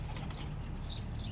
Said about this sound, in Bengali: একটা কবুতরের খাঁচা বানাইছে, আর সেই খাঁচার ভিতরে অনেকগুলো কবুতর আছে